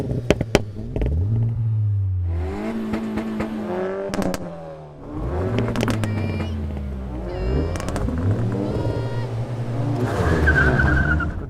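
Hot hatchbacks run a drag race at an airfield, among them a Honda Civic Type R, a Cupra R, a Peugeot 308 GTi, a Hyundai i30N and a Renault Megane RS, with loud engines revving and climbing through gear changes, close by and continuous.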